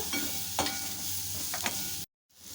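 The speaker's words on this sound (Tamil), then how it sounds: "இந்த வெங்காயம் தக்காளி வந்து கொஞ்சம் நல்லா வதங்கட்டும்" Onion and tomato sauté over medium heat in a pan and are stirred, giving a soft, quiet sizzle with a few brief scraping strokes before a short dropout to silence.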